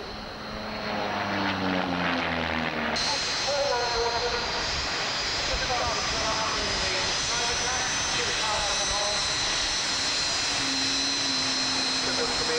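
Propeller aerobatic display aircraft pass at full power near top speed over an RAF Chivenor airshow in 1989, a steady loud drone with shifting engine tones that rises sharply at about three seconds, while an announcer talks over it.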